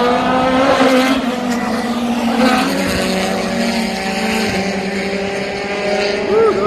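Historic sports race cars, including Mazdas, approach on the Road Atlanta track, their engines a loud, sustained roar with shifting pitch that swells as they near.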